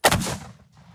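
A single sharp AR-15 rifle shot cracks loud and close outdoors, followed by a short decaying echo.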